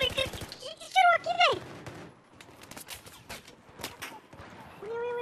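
Gunfire in Battlefield 4 on the Operation Locker map: several sharp shot cracks mid-clip, fairly close, mixed with game effects and voices talking over the action.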